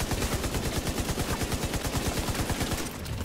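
A machine gun with a sniper scope fires in The Division 2 video game, loud rapid continuous bursts of shots that cut off near the end.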